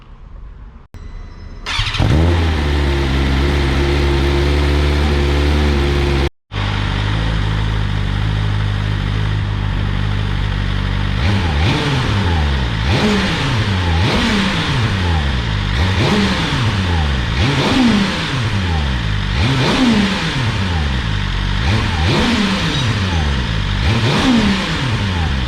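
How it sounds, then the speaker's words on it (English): A 2024 BMW S1000RR Gen 5 superbike with standard headers, catalytic converter and an Akrapovic end can, cold starting after a brief crank, idling high, then blipped through a long series of sharp, rhythmic revs, loud and close. "I'll just start up now for you guys so you can hear it while it's cold"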